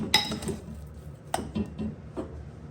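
A plate set down on a kitchen counter while plating a sweet potato and lentil dish: a few light clinks and knocks of crockery, close and fairly quiet, with no talking.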